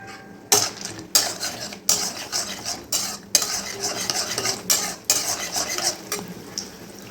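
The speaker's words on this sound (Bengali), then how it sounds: "তেল গরম হয়ে গেলে এই বড়িগুলো ভেজে নেব।" Lentil badi fry in hot oil in a wok: a steady sizzle under repeated scraping strokes of a spatula, roughly one every half second, loud and close, with no voices.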